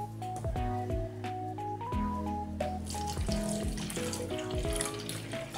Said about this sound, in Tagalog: So maglalagay po tayo ng tubig.